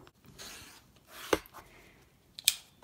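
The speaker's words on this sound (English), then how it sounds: "Just like the first one, I'm going to trim each side." Scissors trimming the edges of fabric triangle quilt blocks: a few quiet, sharp snips and rustles spaced apart, with no talking.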